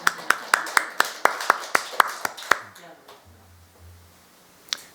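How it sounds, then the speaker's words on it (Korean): Church congregation at a Christmas thanksgiving service clapping in a steady rhythm, about a dozen sharp, evenly spaced claps that stop abruptly, followed by quiet room tone and a single late clap. "이럴 때는 그래 박수 한번 쳐요"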